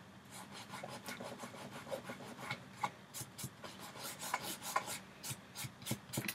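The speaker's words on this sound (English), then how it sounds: "I rubbed a little bit too hard there and I started to remove the image" Fingers rub paper off an acrylic medium image transfer, producing faint, close, rapid rasping strokes in an irregular rhythm with no talking.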